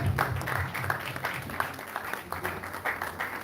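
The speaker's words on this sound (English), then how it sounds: "If you don't clap for them, I'll think you're an enemy." An audience claps for theatre performers as they enter at a film festival event. The applause is steady, fairly faint and continuous, with no one speaking.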